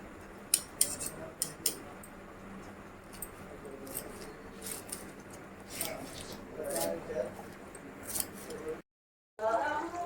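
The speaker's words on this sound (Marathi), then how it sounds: "आपली गार्निशिंगची किंग कोथिंबीर आता बारीक चिरून घ्यायची" Knife repeatedly chopping fresh coriander leaves fine on a board in a kitchen, an irregular run of close, crisp taps and cuts, faint against a quiet background with a brief silent gap near the end.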